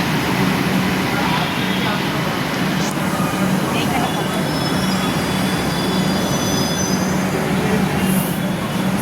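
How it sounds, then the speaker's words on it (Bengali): A train bound for Garia pulls into a suburban station, its broad steady rumble and squealing wheels filling the scene, loud and continuous throughout. "এটা গড়িয়া যাওয়ার ট্রেন"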